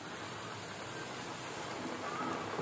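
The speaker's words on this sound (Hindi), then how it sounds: "चिकन के 1-1 पीसेस को हम डाल देंगे।" Chicken pieces sizzling in hot oil over medium to high flame for KFC-style fried chicken, a steady loud hiss and crackle filling the clip with no talking.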